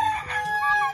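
A fighting cock crows once, close and loud, in a single harmonic call lasting about a second with no talk over it.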